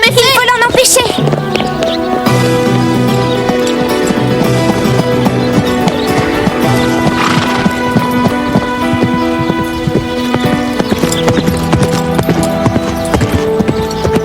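Cartoon horse hooves clip-clop in a brisk, repeated rhythm at a show-jumping lesson, layered under background music and voices speaking.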